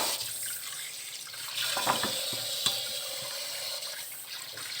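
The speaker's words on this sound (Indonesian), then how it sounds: "Nah, kita bilas, cuci sampai uapnya tidak ada lagi." Tap water runs steadily over salt-soaked potato pieces being rinsed in a sink, a close continuous hiss and splash with a few brief knocks as the potatoes are handled.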